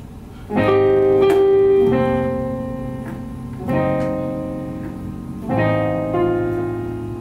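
Three slow piano chords from a song are struck one after another, each ringing out and fading before the next, played alone and close.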